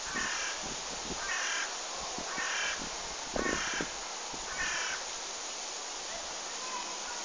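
A raven caws about five times at a steady pace, fairly loud and nearby, over a constant rush like flowing water in a forest.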